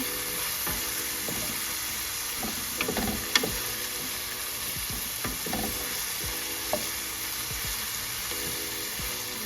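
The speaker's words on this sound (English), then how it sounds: "And I'm going to stir that on up. Allow these vegetables to finish cooking down." Vegetables sautéing in a skillet with Worcestershire sauce, a steady sizzle and frying hiss under repeated scraping and stirring strokes of a utensil, close and continuous with no talk.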